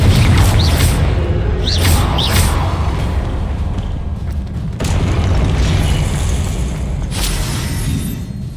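Fiery Confringo spell blasts boom in the Hogwarts Legacy video game, with heavy rumbling impacts layered over dense battle noise and a few high whooshing effects, loud and continuous throughout.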